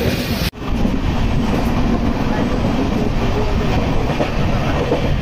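A train pulls into Tatanagar station with a steady, loud rumble of wheels and carriages that runs close and continuous after a brief opening burst.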